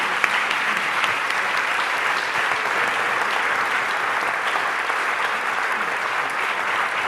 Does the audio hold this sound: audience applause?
yes